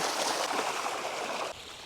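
Rushing, splashing water pours steadily over carrots being washed for under two seconds, then cuts off abruptly to quieter trickling.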